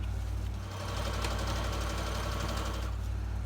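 A sewing machine stitches a paper strip into a junk journal, a close, steady mechanical hum and rapid needle rattle running without pause for a few seconds.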